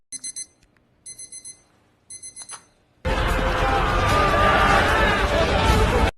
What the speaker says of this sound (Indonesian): saat berjalan perlahan, jam Asep berbunyi dan membangunkan mereka semua